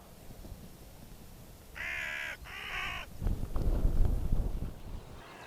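Hooded crows caw twice in a quick pair of harsh calls from fairly close, followed by rustling and flapping as the birds take off amid light wind.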